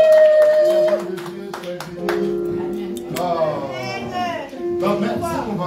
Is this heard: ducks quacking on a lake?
no